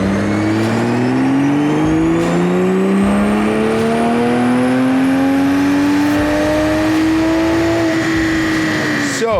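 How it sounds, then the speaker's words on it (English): A 2020 Toyota Supra strapped to a dyno revs through a long, loud pull, the engine note climbing steadily and then cutting off sharply at the end. "Just got a few pulls on the dyno with the 2020 Supra."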